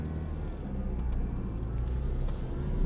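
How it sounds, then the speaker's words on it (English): A 2012 Ford Fiesta SE manual hatchback engine hums low and steady from inside the cabin while the driver rides the clutch, a continuous rumble with no talk. "Rode the clutch a little bit there."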